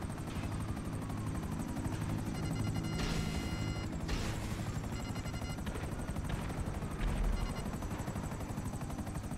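Helicopter rotor in Grand Theft Auto V thumping steadily and loudly throughout a chase behind a plane, with bursts of gunfire and crashing breaking through in the middle and a heavy impact near the end.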